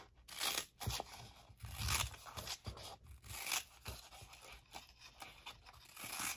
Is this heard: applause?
no